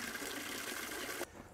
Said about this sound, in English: You see I'm filling up my bucket here.